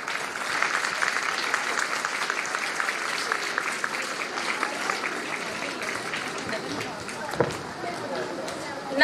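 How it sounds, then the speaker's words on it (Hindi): A crowd at a school-style Urdu speech event gives a dense, steady wash of applause to welcome a young speaker, with voices mixed in beneath the clapping for the full stretch. "तो अपनी भरपूर तालियों में उनका इस्तकबाल करें"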